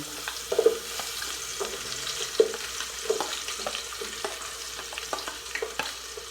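Chopped garlic and onion sauté in a pan, giving a soft, steady sizzle with scattered clinks and scrapes of stirring, close and moderately quiet, with no talking.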